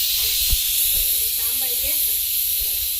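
Mutton simmering in a pot for biryani gives off a steady, broad hiss of steam that runs without a break. Low thumps and faint voices sit underneath it.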